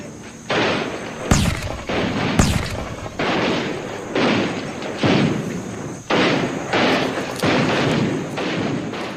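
A battle sound effect of rifles firing in volleys. Sharp reports and crackling bursts come in a repeated rhythm with short gaps, loud and close, with no voices.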